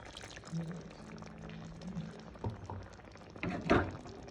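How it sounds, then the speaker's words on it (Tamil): Coconut milk pours into a pan with a soft, steady trickle, followed by gentle sizzling and a few brief clinks of a utensil nearby. "இப்போ நம்ம கொஞ்சோண்டு தேங்காய் பால் விடலாம்."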